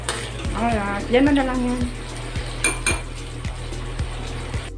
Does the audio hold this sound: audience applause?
no